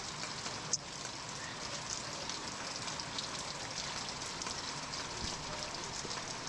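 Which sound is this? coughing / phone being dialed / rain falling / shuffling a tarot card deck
rain falling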